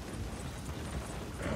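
Horse hooves clip-clop in Red Dead Redemption 2 as a gang rides out for a night train robbery, a steady dense patter under a continuous rumbling game soundscape.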